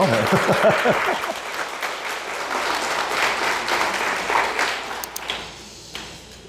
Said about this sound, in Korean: 박수 하려면 확실하게 하시죠.